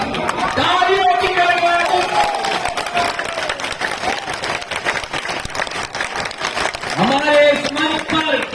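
A crowd at a political rally in Ashoknagar claps loudly and continuously, a thick wash of applause, while someone speaks over it at the start and again near the end.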